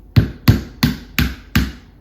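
Five sharp, evenly spaced knocks of a hammer cracking the hardened candy coating on a Halloween candy apple, close and loud with a solid low thud on each blow.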